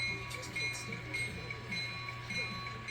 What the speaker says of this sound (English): Tom threw our switch. We'll back up